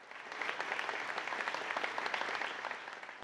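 A room of delegates at an international alliance meeting applauds after a unanimous vote, a dense, steady burst of clapping heard alone and fairly close throughout.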